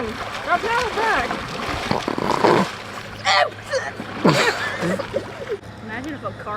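Paddles splash and slosh in the water around a small boat that later sinks, with bursts of splashing near the mic amid loud chatter and shouting from several people.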